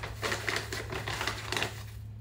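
A worn, battered Starbucks paper bag crinkles and rustles as it is handled, a string of crisp, papery bursts close to the microphone over a steady low hum, with no talking.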